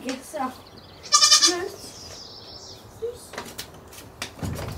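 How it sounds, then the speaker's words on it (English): Mountain goats bleat nearby in a few short, nasal calls, with a person talking between them and some knocking and rustling in an outdoor setting. "Think they're mountain goats?"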